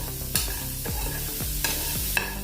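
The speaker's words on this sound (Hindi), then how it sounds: "अभी प्याज को अपने थोड़ी देर भूनना है, ज़्यादा भुनना नहीं है।" Chopped onions with salt and turmeric sizzle in a pan while a spoon stirs them, scraping in a steady rhythm with a few sharper knocks against the pan.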